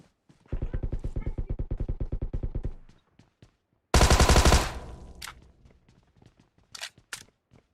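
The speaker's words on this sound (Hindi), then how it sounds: "पीछे कंटेनर में बंदा था, फायर दे रहा था मुझे" Automatic gunfire in a mobile battle-royale shooter game, a rapid rhythmic burst lasting about two seconds, then a loud blast followed by scattered shots and clicks, with players talking over the action.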